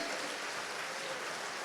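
A church congregation applauds together, a dense, even wash of clapping that holds steady and fairly quiet throughout the short stretch with no voices on top.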